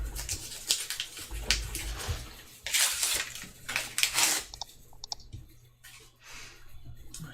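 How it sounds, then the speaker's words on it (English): Close, crisp computer mouse clicks come in irregular bursts, some quick and doubled, mixed with faint rustling handling noise. "you were hearing my mouse click"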